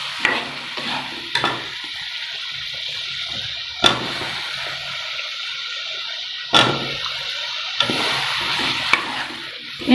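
Potatoes and tomatoes are stir-fried in a pan for aloo matar, a moderate hiss punctuated by several sharp spatula knocks and scrapes at irregular intervals, close with no speech.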